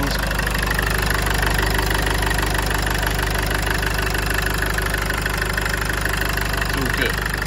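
A Land Rover Freelander 2 engine idles after new intercooler hoses and a throttle body were fitted, heard close from the engine bay as a steady, even drone with a continuous mechanical hum and no pauses.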